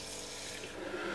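Water runs steadily into a bowl to soak gelatin, a soft continuous splash close by with no talking.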